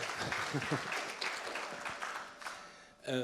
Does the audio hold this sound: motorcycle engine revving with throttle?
no